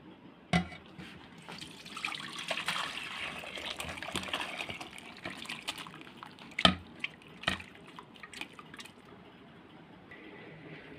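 Pressure-cooked meat curry is poured from the cooker into a pot, with a wet glugging, splattering flow and several sharp metallic knocks and drips over about eleven seconds, no talk.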